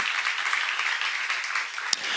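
Church congregation applauding during a sermon, steady dense clapping throughout with a single sharper clap near the end.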